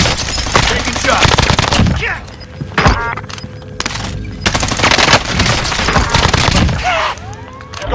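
Rapid bursts of automatic gunfire crackle through a Warzone battle royale match, loud and repeated, with teammates' voices and game callouts mixed in.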